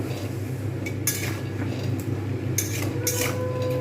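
A spoon stirs potatoes in a pan for a vegetarian aloo dum with hing and capsicum, clinking and scraping against the metal a few times over a steady low kitchen hum.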